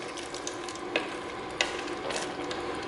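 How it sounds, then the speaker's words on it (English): Whole grain rotini pasta gets stirred in a pot of liquid with a spoon, producing a steady scraping, sloshing churn with a few sharper knocks against the pot, no voices. "I'm going to stir that around really good."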